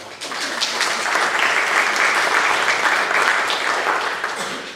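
Sustained applause from a crowd, loud and steady throughout, with many hands clapping densely and no pauses.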